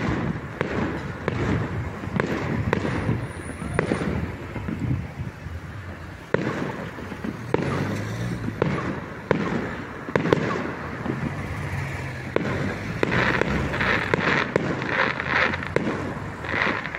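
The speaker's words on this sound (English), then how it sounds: "catch the fireworks over there" Guy Fawkes night fireworks over Luton, UK: a steady run of booms and sharp cracks at varying distances, some close and loud, others distant, with wind rumble on the microphone.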